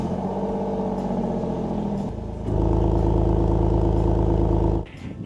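Alfa Romeo Giulia Quadrifoglio with its Ferrari-derived 520 hp V6 breathing through four Akrapovic exhaust tips, a loud close-up engine note that idles, then steps up into a stronger sustained rev for a few seconds before dropping off.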